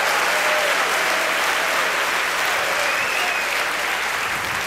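An audience at a prophecy conference applauds and cheers, a loud, dense wash of clapping that holds steady throughout.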